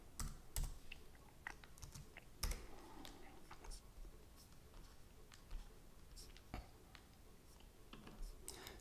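Quiet, close typing on a MacBook keyboard, a steady scatter of soft key clicks with occasional louder taps, faint and intimate with no other sound.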